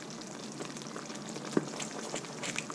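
Homemade teriyaki sauce simmering in a pan on an electric stove element, a soft continuous bubbling sizzle with tiny pops, faint and close, with no talking.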